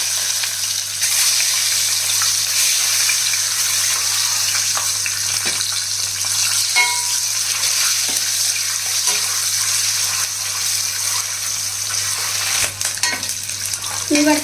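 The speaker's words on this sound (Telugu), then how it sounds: "ఇట్లా ఆయిల్ వేసాను. ఇందులో ఒక 1 టీ స్పూను పసుపు వేసి ఇదిగోండి ఎగ్స్ ఫ్రై చేసుకోవాలన్నమాట." Eggs fry in oil seasoned with a teaspoon of turmeric, giving a loud, steady sizzle and crackle throughout, with occasional stirring and spatula scrapes close by, no talking.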